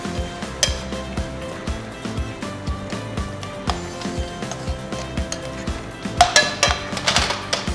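A spoon stirs sour cream into a sauce for fried pork Jäger schnitzel, with light clinks and scrapes against the pan over a faint sizzle, growing louder near the end.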